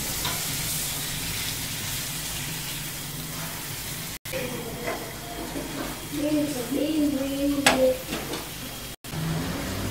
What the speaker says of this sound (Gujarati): તેને બરાબર રીતે મિક્સ કરી લઈશું.